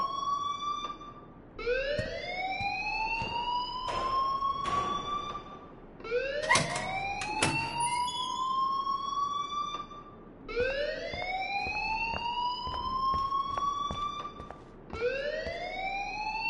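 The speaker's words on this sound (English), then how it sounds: "please turn off that alarm since that's your job." Alarm in the video game Life is Strange wailing in repeated rising sweeps, each climbing and cutting off, loud and steady throughout with no talk over it.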